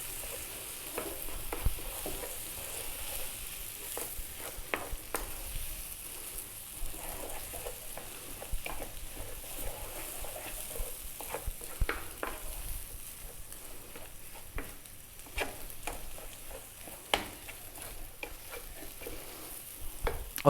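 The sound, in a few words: egg mixture being stirred and cooked in a pan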